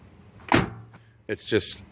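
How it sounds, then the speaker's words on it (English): A truck door swings shut with a solid thud, followed by a voice and some lighter clicks and rattles nearby. "It just shuts flush and perfect every time."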